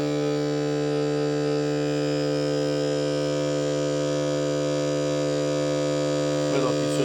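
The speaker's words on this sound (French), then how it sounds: "Voilà, on entend le compresseur." Steady, low droning hum of an Airbank Pulse Pro electric air compressor inflating a fishing kayak, running continuously and loud at close range, with a brief voice near the end.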